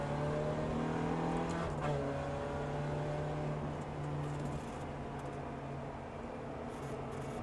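A Ferrari F430 accelerates on a racetrack, its engine a steady, fairly distant drone that shifts pitch partway through as the car pulls on and then settles into a sustained hum.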